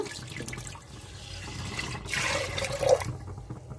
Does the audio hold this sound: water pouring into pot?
yes